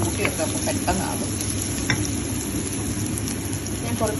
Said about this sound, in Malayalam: ഞാൻ കുറച്ച് ചുവന്നുള്ളി കുറച്ച് സവോളയും വരട്ടേക്കുന്നത്.